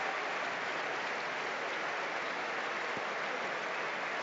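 Football crowd applauding McTominay off the pitch at a Scotland versus Iceland match, a dense, even wash of clapping heard at a distance over a radio line, steady for a few seconds.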